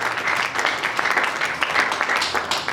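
A church congregation at a Sunday worship service breaks into steady, full applause, a dense wash of many hands clapping close by with slight swells, with a trace of voices mixed in.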